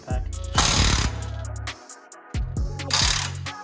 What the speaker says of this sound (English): Using chrome sockets on an impact.